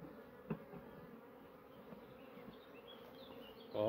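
Honeybees in an opened hive buzz after being disturbed, a dense, continuous droning hum close by, with a couple of faint knocks and a louder thump at the end.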